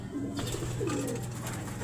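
Pigeons cooing nearby in a loft, soft repeated low coos over a steady background murmur.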